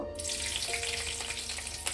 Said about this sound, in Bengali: কড়াই আমি কয়েকটা কাঁচা লঙ্কা চেরা দিয়ে দেবো